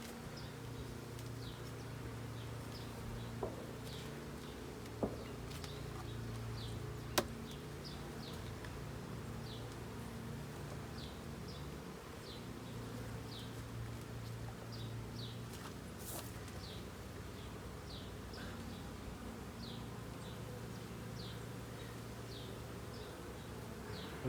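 Honeybees hum steadily in and around an open hive during an inspection, a dense, even buzz with a few faint clicks and a distant bird call.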